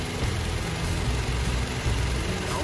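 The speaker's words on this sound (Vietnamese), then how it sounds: "Đây các bạn, động cơ đang nổ nè." A 2015 Toyota Fortuner with a 2.7-litre petrol engine and automatic gearbox, idling smoothly and quietly at close range with a soft, even low hum.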